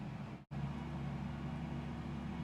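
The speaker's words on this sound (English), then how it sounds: "there's a fucking semi truck outside of my window right now" A semi truck idles outside a window, a steady low engine rumble heard from indoors, continuous and fairly faint with one brief dropout.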